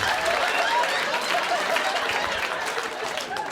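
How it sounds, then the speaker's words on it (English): A comedy-special audience gives a steady round of applause that stays even and moderately loud throughout, with some crowd chatter mixed in. "Give her a round of applause."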